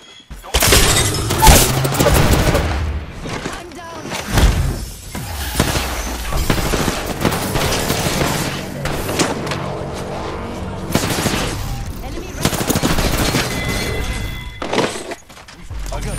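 Heavy video game gunfire striking the player, dense rapid bursts and impacts, loud and nearly continuous, with a voice talking over the shooting.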